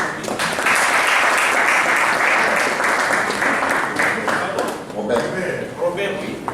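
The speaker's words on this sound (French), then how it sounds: "Monsieur Rigobert Kingombe, deuxième vice-président, on peut applaudir." An audience at a Congolese televised event gives sustained, loud applause, steady clapping from many hands throughout, with a voice heard faintly beneath it.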